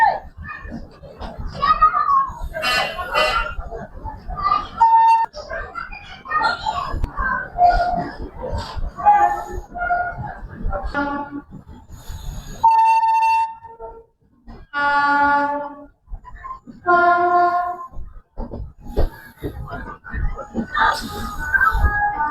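AP Sampark Kranti Express pulling out of a station, its horn sounding in loud tonal blasts amid rumbling wagons, with children's voices and chatter running throughout.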